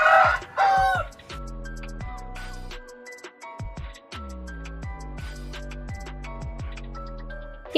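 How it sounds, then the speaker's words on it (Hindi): Roosters crow repeatedly and hens cluck on a farm where chickens roam everywhere alongside ducks, several loud overlapping calls following one another in close succession. "हर तरफ मुर्गे ही मुर्गे हैं"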